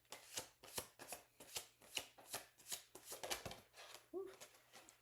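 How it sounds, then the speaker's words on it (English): Tarot cards being shuffled by hand up close, a run of quick rhythmic riffling bursts about three per second, fairly quiet, with a brief voice near the end. "I want to see if there's any more cards that want to come out."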